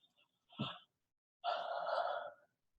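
A person yawns quietly, a short intake followed by a drawn-out, breathy exhale, alone with no talk over it.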